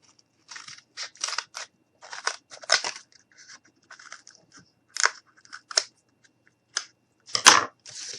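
Scissors snip through paper while a boot-shaped ornament is cut out, a close, irregular series of short crisp cuts and crunches separated by brief pauses.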